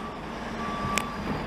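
An older Volvo wheel loader at a snow dumping site sounds its reversing alarm, a single clear high beep over a constant hum of machinery and distant engine noise.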